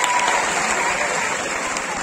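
Audience at an annual ceremony of a computer training centre claps in a brief, steady burst of applause, loud and close.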